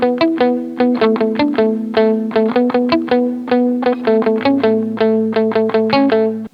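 A small guitar fill with drums for a song plays as a steady run of short, plucked, effected notes with a regular rhythmic pulse, close and loud with no talking.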